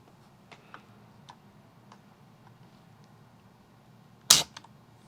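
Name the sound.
trigger pull on Crosman 362 air rifle with trigger gauge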